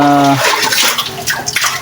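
Old water being drawn up from a deep well over three metres down, a loud continuous rushing and splashing that begins with a brief tonal hum and carries on throughout.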